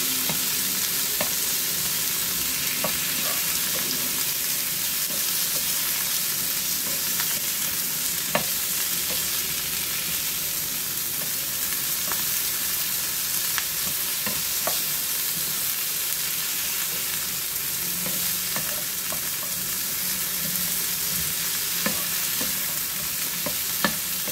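Shrimp sauté in a pan with a steady, close sizzle, broken up by frequent clicks and scrapes of stirring. The sound keeps an even level throughout and no one speaks.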